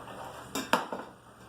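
Spoonfuls of cooked black beans drop into a pan with a few sharp metallic clanks and scrapes of a utensil against the pan, close up over a quiet kitchen background.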